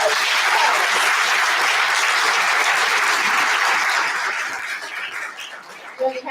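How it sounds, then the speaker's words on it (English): Applause for a judge at a community college Black History Month program rings out dense and steady, then thins and trails off toward the end. "Let's give a round of applause for Judge Harris."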